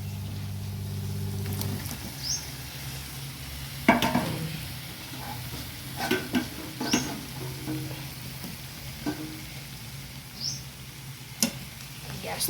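Sliced potatoes, with coriander leaves added last, fry in a pan as a spoon scrapes and stirs now and then, giving a low steady sizzle broken by scattered clatters and knocks.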